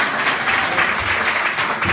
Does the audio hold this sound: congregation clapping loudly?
yes